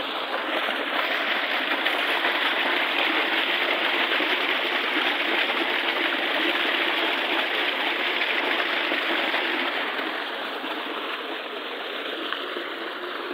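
Water flows steadily in a continuous rushing wash, a close stream murmuring without pause and no voices.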